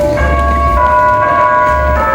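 A Catholic church bell in Loreto, Mexico rings with sustained tonal strokes, heard from a distance over low outdoor rumble and traffic noise.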